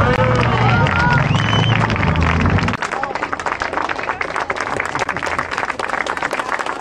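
Crowd applause at a trail running race in Bonsovi Polyani, loud and dense clapping with cheering over music for a few seconds, then thinning into scattered claps and crowd chatter.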